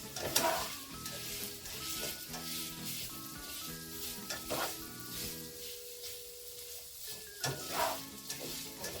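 Food sizzles as it browns in a skillet, with a steady crackling fry, occasional stirring scrapes and light clinks of utensil against pan, close and moderately quiet with no talk.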